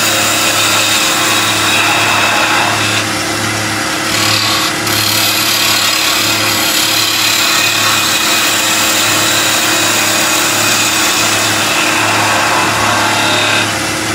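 A wood lathe spins a piece for a German smoker as a larger skew chisel cuts it, giving a loud, steady broadband power-tool roar with a constant low motor hum and a brief lull partway through.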